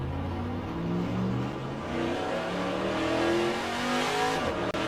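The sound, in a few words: VK Commodore Group C race car engine driving, rFactor2 video game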